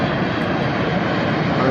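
Loud, steady jet roar from a large airliner flying directly overhead as it comes in to land, a dense continuous rush with no pauses.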